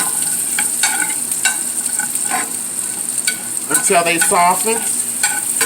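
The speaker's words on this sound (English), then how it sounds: "let my shallots kind of like saute them here for a moment" Shallots sauté in a hot pan for salsa with a constant bright sizzle, stirred now and then with scraping and clinks, while a voice speaks briefly over the frying.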